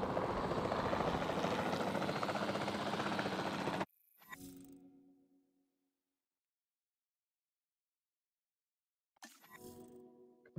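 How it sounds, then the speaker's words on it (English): Helicopter in the video game Jurassic World Evolution, a steady whirring rotor and engine drone for about four seconds that cuts off abruptly, followed by a short rumble and a brief burst of sound near the end. "Then the sensible thing is to take a capture team helicopter."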